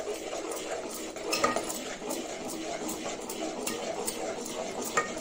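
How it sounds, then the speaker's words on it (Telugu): Flour being stirred into sugar syrup in a pan for sugar chalimidi, a steady run of soft scraping and tapping from the spoon, close and fairly quiet. "ఇప్పుడు పిండి వేసి కలుపుకుందామండి"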